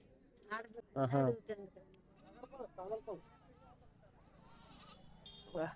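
Young and adult goats bleat at a busy tribal weekly market in the Araku hills near Kasipatnam, one loud, close, wavering bleat followed by fainter cries, mixed with people talking and a murmur of crowd noise.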